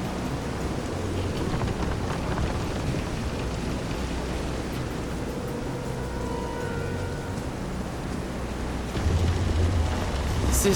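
Heavy rain pours steadily during a storm on a pitching boat at sea in the video game Visions of Mana, with a low rumble that swells louder toward the end; no voices.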